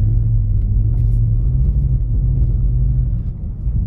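A BMW drifting on snow in winter gives a loud, steady, close engine drone with a deep rumble that dips slightly near the end. No voices are heard.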